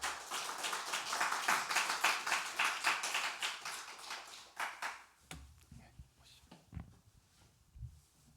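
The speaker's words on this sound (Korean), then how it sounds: "우리 목사님 앞으로 나오실 때 우리 박수로 환영하면 좋겠습니다." At a Korean Sunday worship service, the congregation claps to welcome a pastor forward, with crisp rhythmic claps from many hands for about five seconds before thinning out to scattered taps and quiet room noise.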